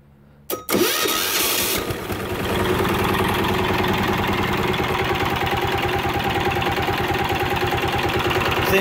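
A 10 HP diesel go-kart engine cranks with a sharp mechanical clatter, catches after a brief struggle, then settles into a loud, steady, close-up chugging idle with an even rapid knock.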